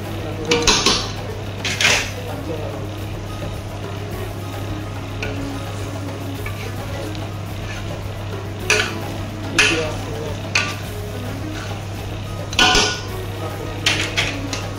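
A spoon scrapes and clinks against a pot while chicken kabsa is stirred, in sharp bursts separated by quieter stretches over a steady low hum.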